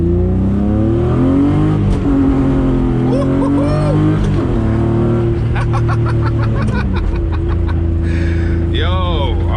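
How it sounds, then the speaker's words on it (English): A BMW E36 sedan's engine revs up in first gear, drops off through the 1-2 shift and climbs again, heard from inside the car with droning tones, and a person speaks over it. "See what a 1-2 shift feels like."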